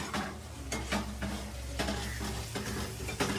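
Onion frying in a pan at home for kanda pohe, a close sizzle broken by repeated scraping knocks of a spoon stirring it, with no talk.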